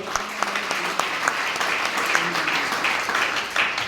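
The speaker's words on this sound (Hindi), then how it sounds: "एक बार चाहता हूं फिर से विजय सर के लिए जोरदार ताली होना चाहिए" Audience applause for Vijay sir at a training event in Digha: a room full of people clapping steadily with sharp individual claps, close and lively, some voices mixed in.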